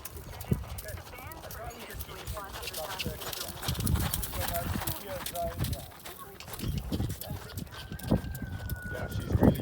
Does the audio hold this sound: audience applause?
no